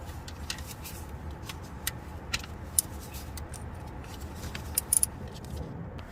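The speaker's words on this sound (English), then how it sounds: "Get your ratchet wrench and twist it" A ratchet wrench clicks in short, quick bursts as it turns a 10 mm bolt during a knock sensor replacement on a 2000–01 Nissan Maxima, faint and close-up with light metallic ticks.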